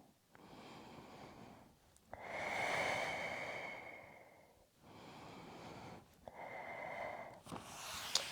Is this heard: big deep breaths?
yes